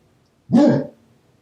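A dog named Jack lets out a single loud bark at close range, about half a second long, with quiet surroundings before and after.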